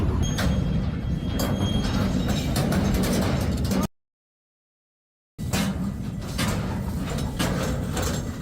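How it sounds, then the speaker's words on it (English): A Canadian Pacific train in Franklin Park, Illinois slowly tilts off the tracks, giving a steady mechanical rumble and rail noise that cuts to silence for over a second and then resumes. "The Canadian Pacific train in Franklin Park, Illinois slowly tilted off the tracks, yet no collision occurred."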